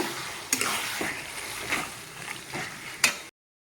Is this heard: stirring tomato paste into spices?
yes